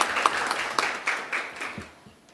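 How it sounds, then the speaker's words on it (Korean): Audience applause at a formal Korean committee meeting on digital policy, welcoming the chair to the podium; a steady wash of clapping that gradually fades out over about two seconds, with no talking. "박수로 맞아주시면 감사하겠습니다"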